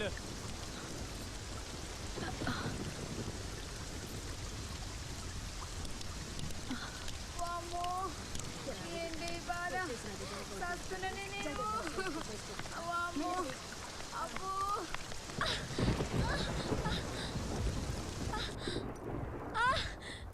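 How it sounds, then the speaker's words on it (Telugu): Steady rain hisses throughout, with people talking over it and a few brief louder bursts near the end. "వర్షం వస్తున్నది సారు"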